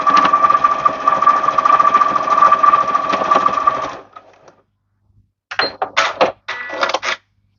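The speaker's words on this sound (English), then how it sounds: "I just want to sew just straight down the center just to have it a little bit firmer." A sewing machine stitching straight down the center of a fabric bow, running in a fast steady whir for about four seconds, then a pause and a few shorter stuttering bursts.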